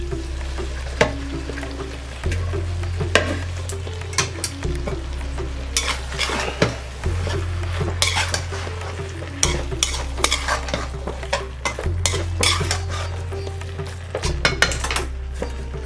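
Cooked rice is stirred into frying vegetables in a pan, with repeated scraping strokes of a spoon, light sizzling, and occasional clinks against the metal.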